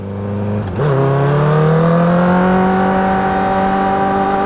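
A motorcycle engine in first gear with the throttle opened a little: a close, loud, steady engine note that dips briefly, then rises smoothly in pitch and holds a sustained rev.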